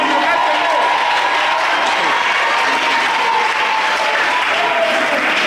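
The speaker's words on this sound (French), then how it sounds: "Acclame très fort Jésus." A church congregation applauding, dense sustained clapping from a large crowd that fills the room steadily throughout.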